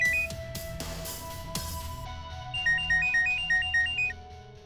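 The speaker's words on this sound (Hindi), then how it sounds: "मैम आपका फोन बज रहा है।" A mobile phone rings with a repeating electronic melody of short bright tones, loud and close, following a few sharp clicks and knocks in an indoor scene.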